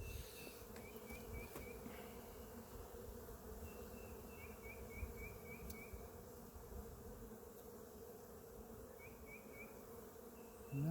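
Honeybees buzz steadily around an open beehive frame, a quiet, continuous droning hum with occasional brief higher whines from individual bees passing closer, and no talking.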